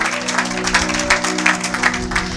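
A church congregation claps in praise during a sermon, a dense, steady spread of applause with a low sustained hum beneath it.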